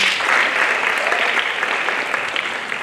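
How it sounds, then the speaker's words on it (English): A crowd claps steadily in dense, even applause that holds for a few seconds at a constant level. "Let's give him a round of applause."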